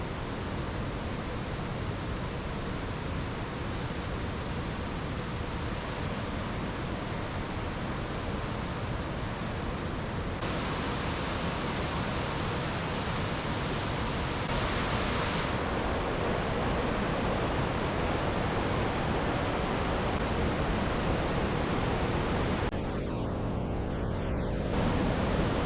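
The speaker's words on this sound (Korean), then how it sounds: "이번 여행에서 본 폭포 중 가장 아름답다고 생각됩니다." A large waterfall of churning rapids at Si Phan Don in southern Laos roars in a steady, dense wash of rushing water that stays constant throughout, loud and unbroken with no voices.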